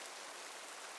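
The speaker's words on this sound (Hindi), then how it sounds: "अब बहुत तेज बारिश होने लगी।" Heavy rain pours in an animated story, a faint but continuous broadband hiss with no voices.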